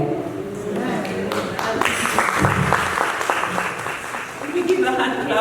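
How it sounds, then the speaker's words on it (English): An audience at a celebration prayer luncheon applauds a minister, a moderate burst of clapping that starts after a moment and carries on, with voices speaking underneath. "We give a hand clap to Minister Victoria for reminding us to take time out to rest"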